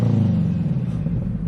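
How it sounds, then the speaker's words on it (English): Scion FRS sports car idling with its exhaust running, a loud, steady low rumble close by with no voices over it. "this exhaust tone is so nostalgic"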